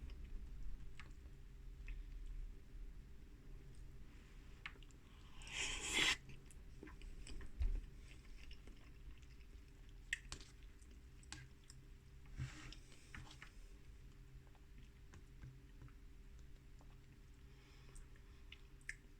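Someone eats a King Pot Noodle Bombay Bad Boy, a spicy instant noodle pot. Faint, soft chewing and squishy mouth sounds come in scattered bursts over a quiet room, with no talk.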